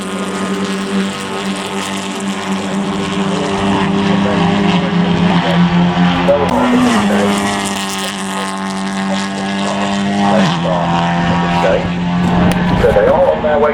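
Racing trucks at Snetterton roar with heavy engine drones that rise and fall as gears change, loud and close, under continuous commentary.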